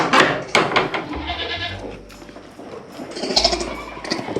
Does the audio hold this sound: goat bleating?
yes